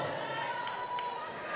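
Fellow athletes at a strongwoman contest cheer for a competitor, a steady crowd roar of voices filling the short moment without a break.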